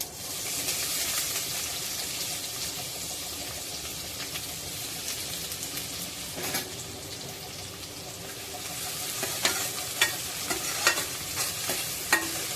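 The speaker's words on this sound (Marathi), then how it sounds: "आता त्यामध्ये एक बारीक चिरलेला कांदा घालूया" Finely chopped onion frying in oil with fenugreek seeds, a bright hissing sizzle that stays steady and fairly close, joined later by a run of sharp spoon scrapes and stirring clinks, without speech.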